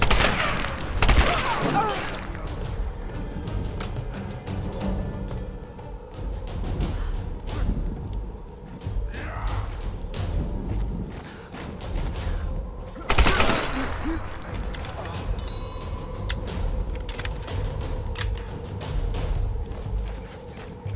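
Gunfire in the video game Tomb Raider (2013), repeated bursts of rapid machine-gun fire and single shots over a continuous game soundscape, with loud clustered volleys near the start and around the middle, under faint voice.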